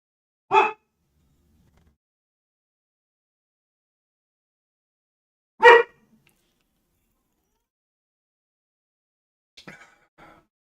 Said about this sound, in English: my dog's being a sideshow like usual. Have to wait for her to freak out